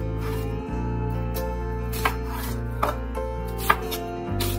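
A knife dices ingredients for gochujang stew on a cutting board, a few light taps and knocks heard over a steady background hum of music, with no talking.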